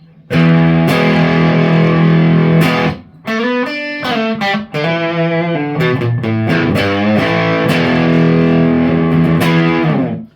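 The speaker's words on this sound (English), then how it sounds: "up from that it goes from overdrive to distortion" An electric guitar through an Artec QDD distortion pedal plays heavily distorted, sustained, gritty chords and riffs, loud and saturated, with a brief drop in the middle before the crunch returns.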